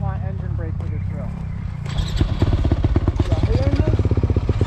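A motorcycle in a riding-school drill idles near a brief voice, then revs into a rapid, close, pulsing engine chatter as the throttle is worked over rough ground.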